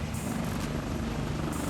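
A Harbin Z-10A attack helicopter in Arma Reforger runs with a steady, loud, unbroken rotor and turbine roar that fills the whole moment, with no speech over it.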